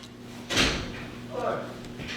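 A room door is opened with a sharp thump and rattle, followed by a softer scrape, heard over a constant low electrical hum while a person talks.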